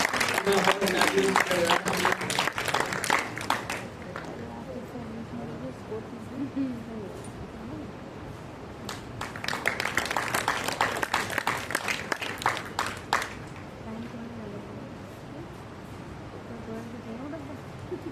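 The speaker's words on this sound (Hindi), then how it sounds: "तालियों की गूंज खनकती रहनी" Applause at a school board result celebration comes in two bursts of crowd clapping, the first at the start and the second midway, with a person talking over the quieter gaps.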